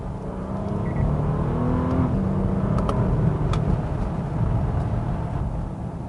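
A Bentley Flying Spur with a ZF dual-clutch transmission, the same as Porsche's PDK, shifting gears in sport mode: a steady, close engine drone whose pitch steps once partway through, with no talking.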